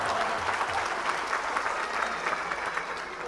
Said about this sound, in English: Let me clap it up for y'all.